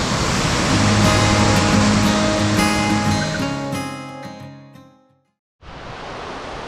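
Cold rainforest waterfall in the Atherton Tablelands, Australia, roaring as a dense, loud rush that thins out and fades to near silence before the steady water noise cuts back in.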